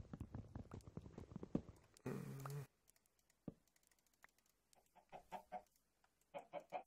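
Minecraft chickens cluck repeatedly during a UHC match, bursts of short clucks alternating with game clicks, footsteps and a brief block-breaking scrape.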